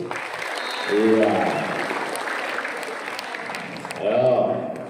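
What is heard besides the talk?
students applauding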